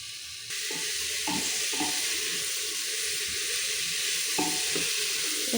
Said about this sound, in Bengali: একটু ভাজার মতো হয়ে গিয়েছে